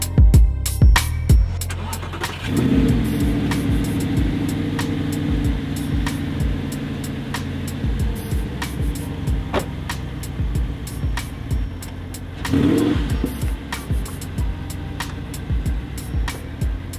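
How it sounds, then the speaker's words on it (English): Audi R8 V10 supercar engine idling with a low steady rumble, swelling into two distinct revs near and loud, then settling back to idle between them. "you've got to understand how amazing this car sounds"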